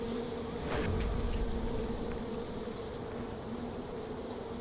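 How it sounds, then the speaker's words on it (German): Bees buzz in the video game Far Cry 4, a steady droning hum holding at a moderate level throughout with a slight swell near the start. "Bienen!"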